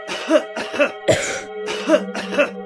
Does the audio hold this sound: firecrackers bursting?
no